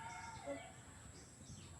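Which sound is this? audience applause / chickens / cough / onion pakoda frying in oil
chickens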